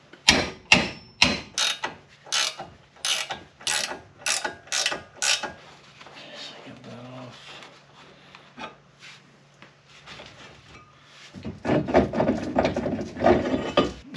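A 19mm ratchet loosening a brake caliper bolt on a 2004 Pontiac GTO, with a series of quick, sharp clicking pawl strokes, then a quieter stretch of metallic handling and a louder rough scraping at the end.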